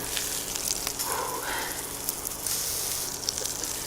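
A burger sizzles in butter on a griddle, giving a steady, dense hiss and crackle throughout at a close, even level with no talk.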